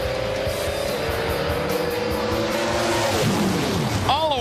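A Pro Stock drag racing car at the 2009 NHRA Virginia Nationals roars loudly down the strip, its high-pitched engine holding a steady sustained scream before the pitch drops sharply near the end.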